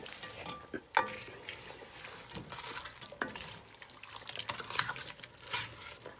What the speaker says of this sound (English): So now I'm gonna give this a good mix.